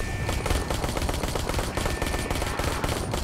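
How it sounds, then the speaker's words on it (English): Continuous rapid gunfire from the Ark Park video game, a dense, loud stream of shots with steady rhythm and no gaps, heard close and alone. "I guess I should start shooting now"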